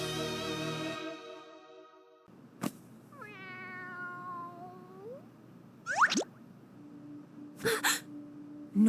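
A cat meows in an Ultra Street Fighter 4 scene: a drawn-out, wavering meow in quiet, then brief sharp sounds and a short, clipped second cry near the end.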